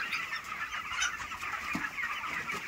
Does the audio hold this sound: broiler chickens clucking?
yes